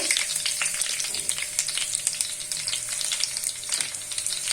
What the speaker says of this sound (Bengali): এখন আমি পেঁয়াজ কুচি এবং কাঁচামরিচ ফালি দিয়ে দিব